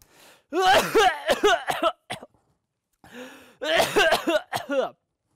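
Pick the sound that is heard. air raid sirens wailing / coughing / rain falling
coughing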